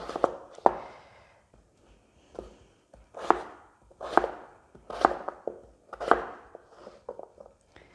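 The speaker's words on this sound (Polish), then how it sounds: "Ziemniaki pokroję w kostkę." A knife dices potatoes on a cutting board in a series of sharp, distinct chops, sparse at first and then coming in a steadier rhythm.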